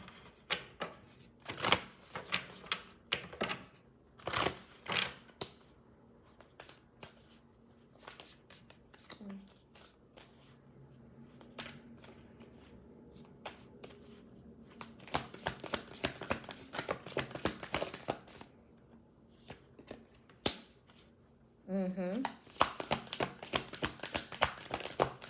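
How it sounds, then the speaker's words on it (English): A deck of oracle cards being shuffled and handled, with crisp riffling bursts and paper flutters that come and go over twenty-odd seconds, close and fairly quiet, with some soft voice nearby. "Let's pull from this deck a few oracle cards and maybe get two oracle cards to close out this message."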